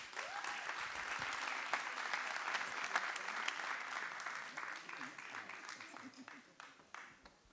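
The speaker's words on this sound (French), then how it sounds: "J'appelle monsieur le maire de Courbevoie, Jacques Ossowski, vous pouvez l'applaudir." Quiet, continuous audience applause for the mayor of Courbevoie at an awards ceremony, thinning into scattered claps toward the end, with faint voices underneath.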